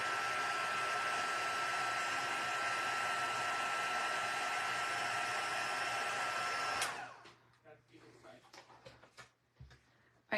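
A heat embossing tool blows hot air onto a paper card in a loud, steady whoosh that cuts off abruptly partway through, followed by quieter handling noises.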